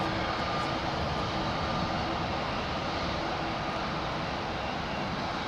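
Aeroplanes at London Heathrow Airport: a broad, steady engine roar holding at a constant level throughout, heard from a distance with no voices.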